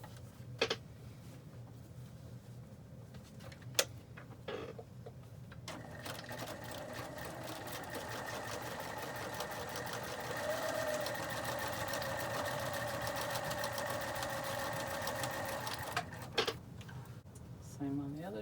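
A sewing machine stitches a fabric face mask closed, its steady mechanical whir running for several seconds in the middle, framed by short bursts and clicks at the start and end, with faint room noise around it.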